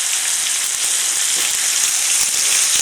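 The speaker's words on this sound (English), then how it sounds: "there's the tenderloin being fried up for supper" Venison tenderloin frying in a pan, a steady dense sizzle with crackling pops, close and loud throughout, no voices.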